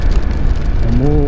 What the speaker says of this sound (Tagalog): Umuulan. Inulan na tayo sa biyahe natin.